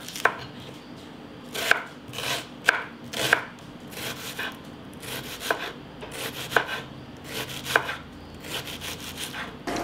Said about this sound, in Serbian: Sada ću jednu glavicu crnog luka iseći sitno.